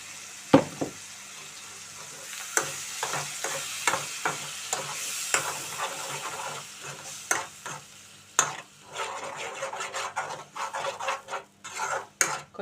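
Ginger garlic paste and tomato puree fry in a pan for fish curry, with repeated close scraping stirs over a steady sizzle and occasional utensil clatter.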